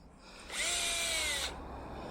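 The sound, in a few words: power drill running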